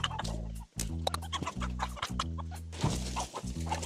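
Fujian chickens in Changting, China cluck repeatedly up close, a busy overlapping chorus of short clucks and calls with no talk.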